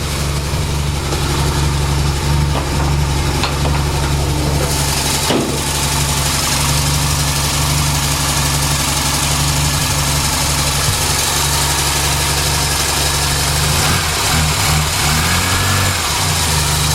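A Morris Minor engine with a re-bored, refurbished block and unleaded head idles loudly and steadily for a long stretch, a continuous close rumble with slight unevenness near the end.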